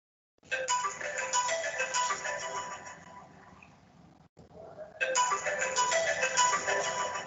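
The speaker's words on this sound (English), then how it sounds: "the phone is ringing" A phone ringtone plays close and clear, two bursts of a bright melodic ring separated by a short pause, with no talking over it.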